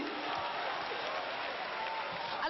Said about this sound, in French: Merci beaucoup, on les applaudit.